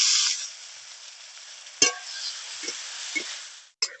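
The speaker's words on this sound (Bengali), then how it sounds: "এবার মাছটাকে দিয়ে ভেজে নেব।" Shrimp frying in mustard oil in a wok with salt and turmeric: a bright steady sizzle, loudest at first then settling, broken by a few short clanks and stirring knocks, with no talking.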